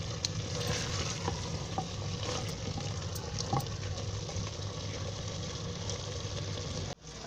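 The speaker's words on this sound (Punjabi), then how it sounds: "ਹੁਣ ਅਸੀਂ ਇਹਨੂੰ ਭੁੰਨਣ ਵਾਸਤੇ ਛੱਡ ਦਿੰਦੇ ਹਾਂ।" Ojri (tripe) curry roasting in a handi pot, a dense continuous sizzle with occasional stirring clinks, close and steady throughout, ending in a brief cut near the end.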